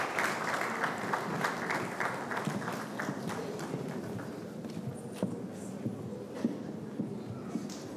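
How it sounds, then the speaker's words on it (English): Applause from a school audience greeting newly sworn-in prefects at an installation ceremony, a dense, steady wash of many hands clapping throughout, gradually thinning slightly toward the end. "You can clap hands for them."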